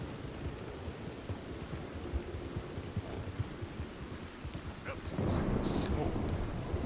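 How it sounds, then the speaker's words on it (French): Heavy rain pours steadily in Red Dead Redemption 2, a dense hiss with low rumbling thunder rolling underneath; the downpour swells louder near the end, and a brief high metallic clink cuts through. "Mais il pleut tout le temps ici, c'est pas possible."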